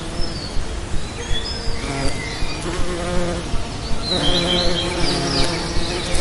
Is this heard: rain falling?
no